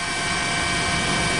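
A news helicopter flies over a tsunami-struck area in northern Japan near Sendai, and its steady, loud rotor and engine drone runs without a break.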